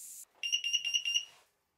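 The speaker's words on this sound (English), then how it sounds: "My carbon monoxide alarm went off." Carbon monoxide alarm going off in a workshop beside a small steam plant fired by a Castle steam boiler, a burst of about five rapid, shrill beeps, loud and close, followed by silence.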